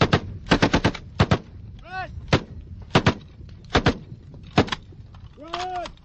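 Rapid bursts of M60 machine-gun fire, several short strings of sharp shots with gaps between, loud and close, during Navy SEAL training, with faint voices in the background.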